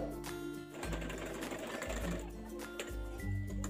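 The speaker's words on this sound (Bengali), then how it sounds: "এবার আমি রাবারটা ভিতরে ঢুকিয়ে এটা সেলাই করে নেব।" A sewing machine stitches elastic into a baby girl's panty pant, its needle hammering in a fast, steady mechanical rattle with short pauses between bursts, close and clear.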